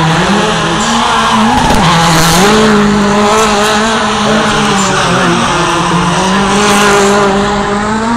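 Loud Peugeot rally car engines roar and rev up and down continuously at the Barbórka Rally in Warsaw, with tires squealing as cars skid through turns close by.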